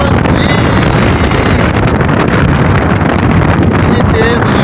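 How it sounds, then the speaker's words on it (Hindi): Strong storm wind buffets the microphone in an open village after heavy rain, a loud continuous roar and rumble with gusting bursts, while a voice talks underneath. "इतनी तेज़ आंधी आ रही है, मौसम मोबाइल नहीं पकड़ा जाता, तेज़ हवा है"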